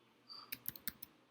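Typing on a computer keyboard, a short quiet run of about five or six sharp key clicks in quick succession, close up, with no talking.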